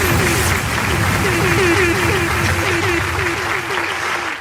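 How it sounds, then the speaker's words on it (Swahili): An audience applauds loudly and steadily throughout, with a tune playing faintly underneath. "Wapi makofi?"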